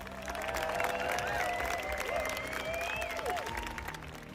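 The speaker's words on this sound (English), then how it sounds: "And then there is a tradition everyone talks about, a standing ovations." A large crowd at a Cannes film screening keeps up a standing ovation, steady massed applause swelling and holding, with bright music-like tones sliding above the clapping.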